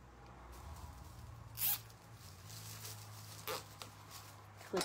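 A plastic zip tie is ratcheted tight while fastening deco mesh onto a wreath character board, with three short zipping bursts spread apart over a quiet room hum.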